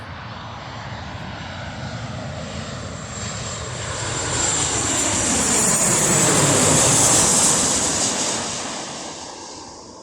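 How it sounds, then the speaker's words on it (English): A Boeing 737 jet airliner roars overhead as it comes in to land, the engine noise swelling to a loud peak and then easing off, steady and close. "I've got a plane about to land, and I think it's a 737"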